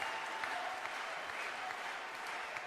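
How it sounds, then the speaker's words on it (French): Audience applause at a political rally held by the UPR, a dense steady wash of clapping from a large crowd, fairly distant and even throughout with no talk over it. "Vous pouvez encore l'applaudir très fort, monsieur Antoine Lebrina, pour ce témoignage très franc."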